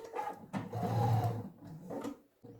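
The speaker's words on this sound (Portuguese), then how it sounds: "vou costurar só esse pedacinho aqui do forro" Sewing machine stitching a bag's fabric lining with its padded batting, running in a steady close whir that swells and dips in two bursts with brief pauses, no talk.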